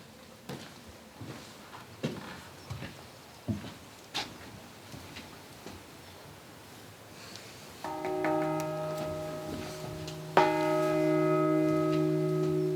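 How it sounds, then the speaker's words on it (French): Church bell of Notre-Dame des Pauvres ringing: two resonant strikes with long, humming sustain, the second louder, after quiet faint ticks and knocks. "Cette cloche n'est pas seulement sonnante, elle est aussi parlante."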